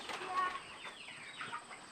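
Chickens in a farm coop cluck and squawk faintly from a short distance as worms are thrown in to them, with brief rising calls over a quiet background.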